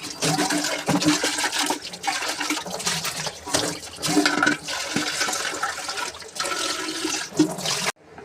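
Running water rinses a copper and brass vessel, a continuous splashing gush with scrubbing and knocking against the metal, loud and close until it stops abruptly.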